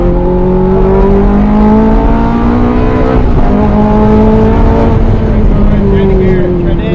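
An Abarth 500 or Ferrari F430 accelerates hard around the Mondello Park race track, its engine note climbing loudly through the gears with a brief dip at a shift, while a driving coach talks over it.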